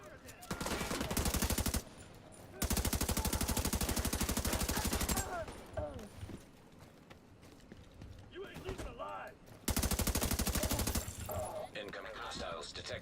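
Rapid automatic gunfire in The Division 2 shooter game, loud sustained bursts separated by pauses, with someone talking quietly between volleys and game sounds in the gaps.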